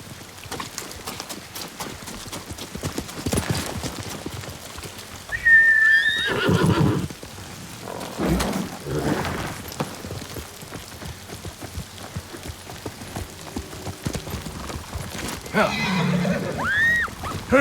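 A horse in the Ghost of Tsushima video game whinnies loudly several times over clip-clopping hooves and pattering rain, with voices talking intermittently in between.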